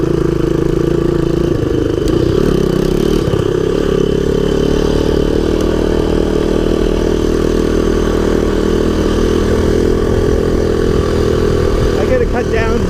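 A 1983 Honda ATC200X three-wheeler with a freshly repaired clutch and carburetor runs loudly and close, a steady, throaty engine drone with slight rises in revs early on, continuing without pause for the full length.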